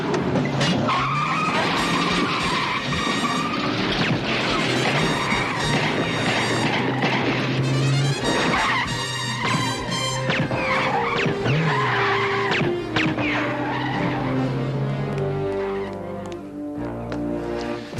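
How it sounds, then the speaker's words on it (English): A car driven hard while the engine is cold, with loud, continuous tire skidding and engine roar running throughout under a dense, busy mix. "It's not good to race a car that way when it's cold."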